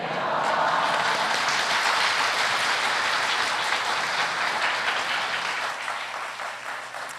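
A church congregation at a Sunday afternoon service breaks into sustained applause, a thick even wash of many hands clapping that holds steady before slowly tapering toward the end.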